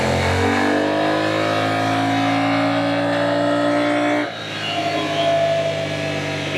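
A Kymco AK 500 scooter engine revving hard on a dynamometer, rising in pitch steadily, then cutting off abruptly and settling back to a lower roar, loud and close, with no voices.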